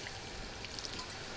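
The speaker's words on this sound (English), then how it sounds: "And now we got a 7 stelle Sauvignon Blanc. We put it right over here." 7 Stelle Sauvignon Blanc wine is poured into a pan of cooking onions for pasta, giving a brief, soft, steady splashing trickle close by with no talking.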